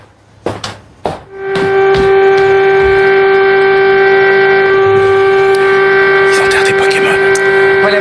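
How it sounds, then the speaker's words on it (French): Two sharp knocks are followed by a loud, sustained civil defense siren tone sounding in tribute to epidemic dead, holding steady, with faint voices and clatter near the end. "Vous entendez ces sirènes qui ont résonné pour rendre hommage aux 3326 morts"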